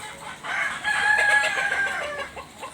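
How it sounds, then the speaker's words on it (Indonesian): Hybrid laying hens of parent-stock breeding from Rhode Island Red, Sussex and White Leghorn lines cluck and crow nearby in a poultry house, a run of overlapping calls rising and fading over a quiet background. "Ayam ras petelur jenis hibrida."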